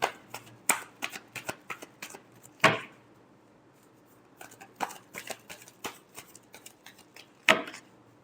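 Tarot cards are shuffled by hand in a quiet room, a run of crisp riffling snaps and slaps near and clear, with a couple of louder bursts and short pauses between.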